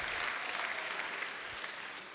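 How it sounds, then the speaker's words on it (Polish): Brief, fairly faint audience applause at a comedy roast for a birthday show, a steady wash of clapping throughout. "Były brawa, jedne chociaż."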